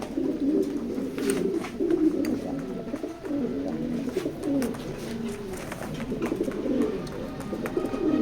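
Racing pigeons coo continuously nearby, overlapping low throaty rolls from several birds in a loft, with faint rustling and no clear speech.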